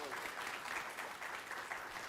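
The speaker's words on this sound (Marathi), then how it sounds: "त्यांच्यासाठी निश्चित टाळ्या व्हायला हव्यात." An audience at an official Maharashtra government function claps together in a sustained round of applause, heard as a steady crackle of many hands, moderately distant.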